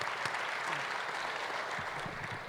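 Applause from the audience at a governors' winter meeting plenary session, a steady wash of clapping lasting a couple of seconds at moderate level, with no talk over it.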